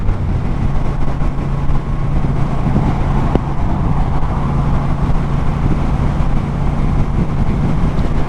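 A Triumph Speedmaster motorcycle cruising at around 65 mph in sixth gear, a loud, steady engine drone with dense wind rush, continuous and close throughout.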